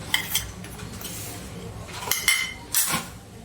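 Spices and amchur powder being mixed in a bowl, with a few close spoon clinks and scrapes against the dish in short bursts and no talking.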